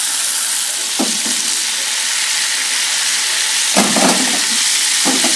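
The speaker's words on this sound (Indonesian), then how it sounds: "Yang terakhir kita goreng sebentar, ini terasinya" Shrimp paste (terasi) sizzles steadily in a frying pan, a constant loud hiss with a few brief stirring scrapes and crackles, no talking.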